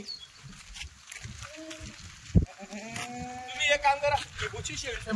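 Kathiyawadi goats of Bhavnagar quality bleating in a loaded truck, a few overlapping wavering calls with a sharp knock, under someone talking.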